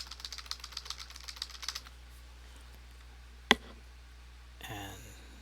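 Quick taps on a computer keyboard, the Alt+O shortcut pressed over and over in Blender, come as a fast run of light clicks for about two seconds, then a single sharp click and a brief rustle near the end.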